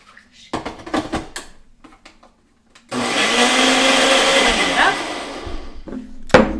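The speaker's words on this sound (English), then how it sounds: "I'm going to just place it in the blender." A kitchen blender whirs loudly and steadily for several seconds after a few clicks and handling knocks, blending an Essential Meal protein drink, the motor holding a constant roar before cutting off.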